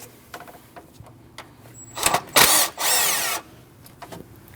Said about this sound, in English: You want to remove the 10 millimeter bolt.